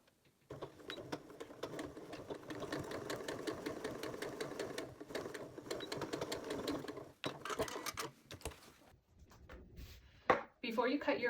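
Sewing machine stitching bias tape onto a waterproof bowl cover, a steady rapid mechanical whir for several seconds that stops, followed by brief handling clicks and rustles.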